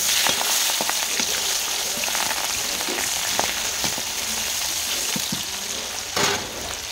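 Sliced onions are dropped into hot oil in a pan where potatoes were just fried. They give a steady, moderately loud sizzle with scattered sharp pops and crackles and an occasional stirring scrape.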